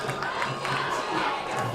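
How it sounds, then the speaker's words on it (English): Raiders football fans in a stadium crowd cheering late in a lopsided high school game loss, a steady roar of many voices with shouts rising within it. "Raiders fans given something to cheer about late"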